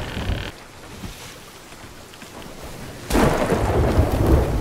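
Thunder rolls across the sea during a lightning storm in the pirate game Sea of Thieves: a loud rumble fades into rain, then a sudden, sharp, close crack bursts out and keeps roaring.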